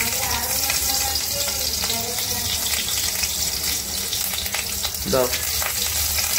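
Green chillies added to a frying pan of hot oil, producing a loud, steady sizzle with stirring clatter throughout and a brief voice in the background.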